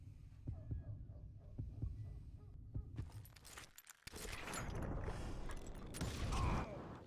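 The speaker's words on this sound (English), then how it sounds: "When you hear the heartbeat, you can draw your gun first." In the Western shooter game Call of Juarez: Gunslinger, soft rhythmic heartbeat thumps pulse steadily in the first half of a duel. Creaking, clanking mechanical sounds and a dense rumble then take over.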